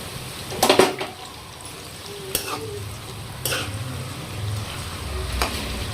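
Dry coconut fries in a pan, a soft continuous sizzle broken by a few scraping stirs of a spoon, close and fairly quiet with no talking.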